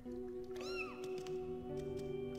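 A cat meows in the Grim Legends hidden-object game, one clear rising-and-falling call over steady background music.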